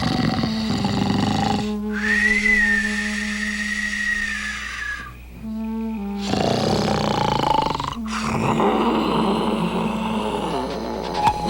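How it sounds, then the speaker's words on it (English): A cartoon character snores in long, drawn-out breaths, each inhale a rasping rumble followed by a whistling, wheezy exhale, repeating in a slow rhythm with brief gaps between. "Soon, he began to snore."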